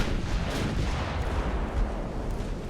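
Naval warship guns firing in the Ultimate Admiral Dreadnoughts battle game, a dense continuous roar of heavy booms and rumbling blasts, loud and sustained with no talking.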